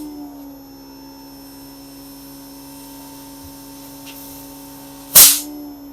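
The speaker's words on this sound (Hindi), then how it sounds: "आपको आवाज़ सुनाई दे रही होगी कंप्रेसर की" An air conditioner's outdoor compressor unit runs with a steady droning hum, then a sharp, loud hissing burst breaks out near the end.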